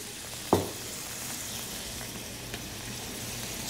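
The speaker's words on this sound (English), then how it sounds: "1 to 2 minutes of cooking the seafood" Shrimp and scallops fry in a pan seasoned with pepper and peperoncino, giving a steady, faint broadband sizzle throughout with one sharp clink or stir near the start.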